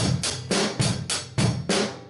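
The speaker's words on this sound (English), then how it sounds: "That sound you hear is called a rim knock." A quick run of sharp, woody rim knocks on a snare drum in a steady rhythm, close and fairly loud, with no voices.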